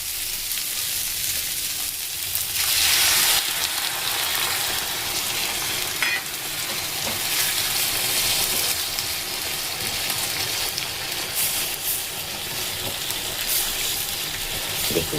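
A pan of potato curry sizzles loudly and steadily as hot water goes in, with a fuller hissing surge early on that settles into a continuous close crackle with no talk.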